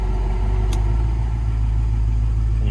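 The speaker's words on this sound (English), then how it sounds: "As soon as I turn the air on, this is the fans." The air-conditioning fans of a 1974 Jensen Interceptor Mk 3 blow steadily on a low setting over the car's deep, constant idle, heard close up with a brief click early on.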